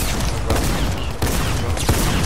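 Rapid gunfire from a Tommy gun in Fortnite arena trios, a loud dense volley of automatic shots running steadily through the moment with sharper bursts at intervals.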